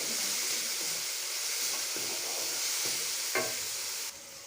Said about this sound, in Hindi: प्याज हमारा ब्राउन होना शुरू हो गया, इसको थोड़ा सा और हम